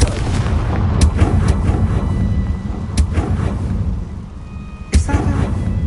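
A Confringo fire spell cast in Hogwarts Legacy, heard as a series of sharp, punchy blasts and booms, four distinct bursts spaced a second or two apart over a rumbling game soundscape.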